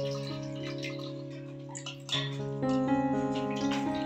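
Water pours and splashes during the bathing of a Gopal idol at a home puja. A small, close trickle grows louder and more broken partway through, under a steady background tone.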